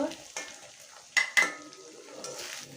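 Spices sizzle in hot oil in a pan with coriander leaves, cumin, black pepper paste and chili and coriander powders for a bhetki fish curry. Steady frying hiss runs throughout, with stirring scrapes and two sharp utensil clacks midway.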